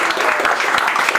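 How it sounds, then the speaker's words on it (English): A short, loud burst of audience applause rings out in a theater during a live show, close and dense clapping from many hands with a few sharper individual claps. "And one round of applause for Olga."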